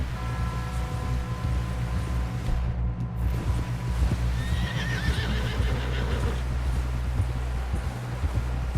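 A horse in the Western game Red Dead Redemption 2 neighs, and its hooves clip-clop in an irregular stream, with wind and rustling heard in the background.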